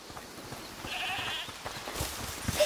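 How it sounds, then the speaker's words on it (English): A goat bleating in A Plague Tale: Requiem, a faint wavering cry in the middle against a quiet ambient background, with another brief call near the end. "is that the goat he talked about?"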